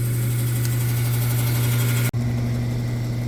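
A saw cutting a big chunk of petrified wood drones loudly and continuously, briefly cutting out for an instant before resuming at a slightly different pitch.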